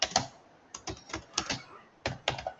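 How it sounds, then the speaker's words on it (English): Computer keyboard typing in a quiet room, a few quick clusters of crisp key clicks with short pauses between them, fairly faint and without any talking. "to give the input through keyboard"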